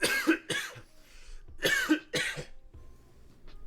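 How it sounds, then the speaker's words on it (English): Several dry coughs in two clustered bursts, close and fairly loud, with quiet pauses between and a soft throat sound at the end. "You can cough. It's all right."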